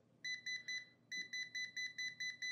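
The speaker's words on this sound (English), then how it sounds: "if I get closer to this cord, we got just a little beep" A non-contact voltage tester pen held near a live electrical cord gives a quick run of short, sharp electronic beeps, three then a brief pause and seven more, close and clear.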